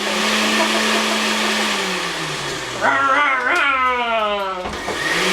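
A blender whirs a garlic mixture in a home kitchen, a loud steady motor drone that dips in pitch and then revs up with rising, wavering whine as the blades catch the contents.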